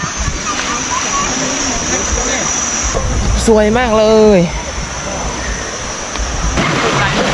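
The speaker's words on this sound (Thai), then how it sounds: "นี่จะเป็นตาน้ำทางน้ำไหลมาทุกคนสวยมาก" Clear water flowing from a natural spring stream in the mountains at Tub Lao, Thailand: a continuous, close rushing wash of running water, with someone speaking briefly over it in the middle.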